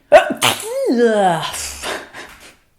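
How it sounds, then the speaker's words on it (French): A single loud, close sneeze with a sharp inhale and explosive burst, trailing off into a brief breathy tail. "j'ai envie d'éternuer"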